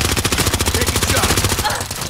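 Incoming automatic gunfire in a video game, a loud, evenly spaced rapid burst of shots rattling continuously throughout.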